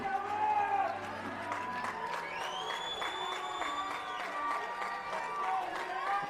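At a 2A high school baseball championship between South Sevier and Kanab, the crowd cheers and claps in a steady roar, with voices rising over it, whistles, and a long rising call.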